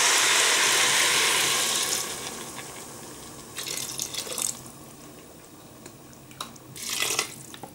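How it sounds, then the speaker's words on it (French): Vegetable broth made from hot water and vegetable stock cubes is poured into a risotto pot, a steady liquid rush for about two seconds that fades, followed by a few faint splashes and clinks. "j'ai mis mon litre de bouillon"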